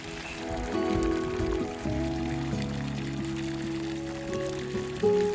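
Water runs through a drip irrigation system feeding about 300 crops, a steady rushing flow with continuous tonal hum from the pump line, fairly loud and unbroken.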